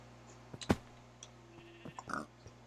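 A pig in the Minecraft video game gives a few short, sharp grunts and squeals over a quiet, steady game hum.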